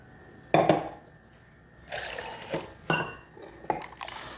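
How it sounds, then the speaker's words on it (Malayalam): Ground paste pours into a cooking pot in a home kitchen: a few separate wet splats and clinks of a spoon against metal, close and fairly soft, with quiet pauses between and no talking. "നമുക്ക് ഈ അരച്ചത് ഇതിലേക്ക് ഒഴിച്ച് കൊടുക്കാം."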